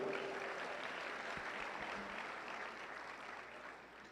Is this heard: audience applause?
yes